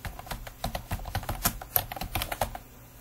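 Rapid typing on a computer keyboard, a quick uneven run of light clicky key taps heard close and alone, with no voices.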